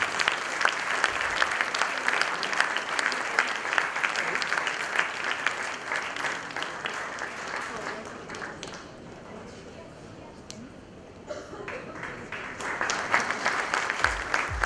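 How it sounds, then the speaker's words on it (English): A conference audience applauds to welcome speakers onto the stage, with dense sustained clapping that thins out midway and then swells again, and some voices mixed in. "A warm welcome and round of applause for our eminent speakers, please."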